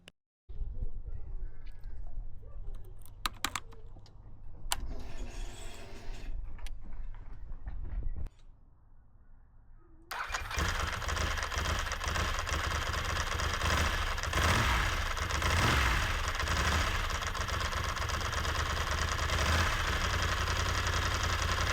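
Ducati 916 motorcycle engine bursts into life after a quiet pause, then settles into a loud, steady idle with a rough, continuous rumble that carries to the end.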